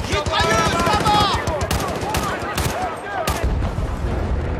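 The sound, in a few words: machine gun fire in Battlefield Bad Company 2 video game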